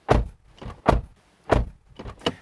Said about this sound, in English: And our door test. That sounds good.